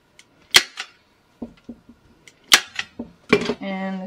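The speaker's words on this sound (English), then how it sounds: "staple that down" A staple gun fires staples through fabric into a wooden bench being reupholstered, giving sharp isolated snaps spaced apart with fainter knocks between them, followed by a brief hum at the end.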